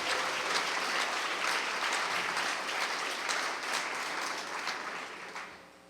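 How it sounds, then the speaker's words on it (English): Loud, full applause from an award ceremony audience at a Source Award induction, a thick continuous roar of clapping that stays strong before tapering off in the final second. "I think that deserves a round of applause."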